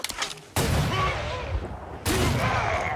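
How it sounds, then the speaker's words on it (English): Gunfire in The Culling, a survival arena game: two heavy, sudden blasts, the first near the half-second mark and the second about a second and a half later. Each one has a broad, roaring body that decays slowly, and no one speaks. "You just shot another contestant with a gun!"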